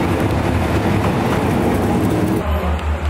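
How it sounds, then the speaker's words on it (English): Thai overnight sleeper train rolling into a station, a loud, steady rumble of wheels and carriages with rhythmic low thumping toward the end. "Train should be getting here any minute now."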